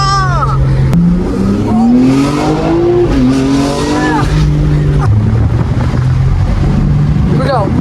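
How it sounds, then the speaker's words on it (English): A BMW M4 Competition (G80) accelerating hard, its engine note rising steadily through gears with brief shift breaks, loud and close from inside the cabin, with a passenger speaking over the roar. "You ready for an acceleration?"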